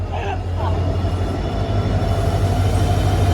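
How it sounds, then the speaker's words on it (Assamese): A train pulls into a station at night in Assam, a heavy continuous low rumble of rolling carriages close by, with faint voices in the background. "ফাইনেলি ট্ৰেইন আহি পাই গ'লহি"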